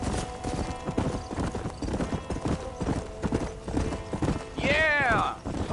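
Horse hooves trot in a Red Dead Redemption western scene, a steady close clip-clop rhythm under spoken dialogue, with a horse whinny near the end.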